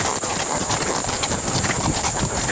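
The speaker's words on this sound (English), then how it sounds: "Riding the horse." Horse hooves clip-clop in a steady, close rhythm while being ridden at Chestnut Creek, with a constant high hiss of outdoor background running underneath.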